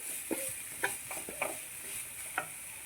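Crushed coconut and garlic mix stirred into cheera (amaranth greens) in a pan for thoran, giving a low sizzle with a few soft spoon or spatula scrapes and taps, close and quiet, without talk.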